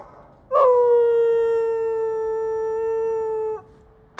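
A single drawn-out dog howl from Dragon Age 2, a steady tonal wail holding for about three seconds, clear and up close with no talk over it.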